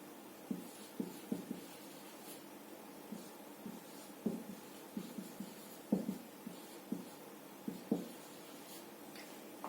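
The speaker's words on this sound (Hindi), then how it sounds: "मैं कैरी डाउन ही लिख देती हूं।" Pen writing by hand on paper while a balance is carried down in an accounting ledger, a series of soft, close scratchy strokes in irregular short bursts, quiet throughout with no talk.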